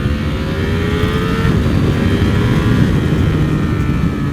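A Ducati Panigale V4 SP motorcycle engine roars close and loud, holding a steady, powerful high-revving drone with no talking.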